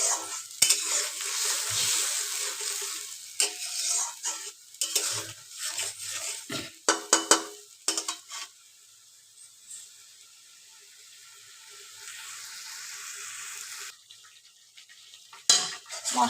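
Masala paste with a splash of water is stirred and fried in a pan for potato alur dom, giving a close, irregular scraping of a spoon against metal over a soft sizzle, with quieter stretches between strokes.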